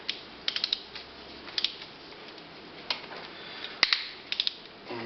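A 3/16 Allen wrench breaks loose bolts on a Harley-Davidson motorcycle, giving sparse, faint metallic clicks and ratchety ticks in small clusters over a quiet background.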